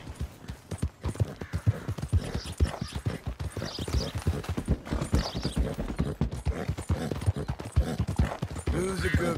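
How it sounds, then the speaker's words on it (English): Horse hooves clip-clopping in a video game, a steady rapid stream of close hoofbeats on a busy street, with a brief faint voice near the end. "Look at that horse there."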